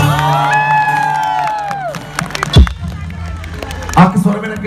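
A live crowd at the Gaana Crossblade music festival in Jaipur answers an amplified voice with bursts of cheering and whoops. The voice dominates at first, then short, loud swells of crowd noise rise through the clip.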